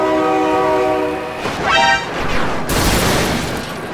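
Train horn blaring loudly in the BeamNG.drive driving game, a sustained harmonic honk that bends in pitch, then a heavy rumbling crash of the passing train, with no talking.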